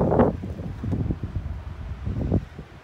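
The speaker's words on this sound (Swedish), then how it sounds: "Det blåser och det blåser och det snöar." Gusty wind buffets the microphone in uneven rumbling bursts, rising and falling outdoors in snowy weather, with no one speaking.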